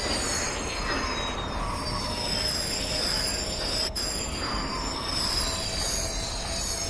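A simulated regional train in Train Simulator Classic rolls along with a continuous rumble, high metallic wheel squeal and faint rail clatter, steady and fairly quiet, with no voices.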